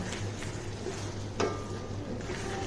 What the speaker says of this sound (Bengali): আলু আর রসুন বটের সাথে কষিয়ে নেব